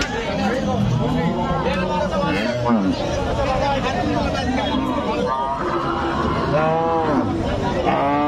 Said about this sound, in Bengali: সাইডে প্রত্যেকটা গাভি এগুলা গাভি গরু